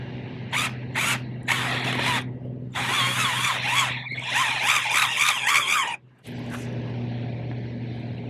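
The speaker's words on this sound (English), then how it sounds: "I will drill some holes for these tulips." A power drill with an attachment bores holes in the ground for planting tulips, whirring in several short bursts and then a longer run of grinding, squealing spins with brief pauses, close and loud over a steady low hum.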